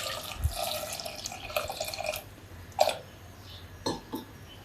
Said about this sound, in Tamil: சேர்த்து கொஞ்சம் தண்ணி சேர்த்துக்கலாம்.